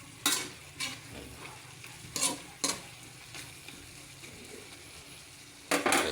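Vegetables frying for Filipino igado are stirred in a pan, with a soft steady sizzle under several sharp scrapes and clinks of the utensil against the pan at irregular intervals, close up and without talk.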